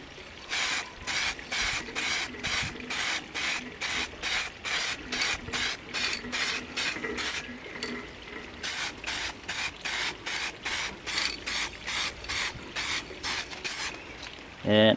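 Aerosol can of black paint sprayed onto wheel inserts in short, regular hissing bursts, about two per second, close and steady with a brief gap midway.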